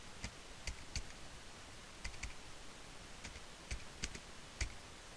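Someone types on a computer keyboard while filling in an HTML form, sparse, irregular clicks of single keys and short clusters over a faint steady hiss, quiet and close.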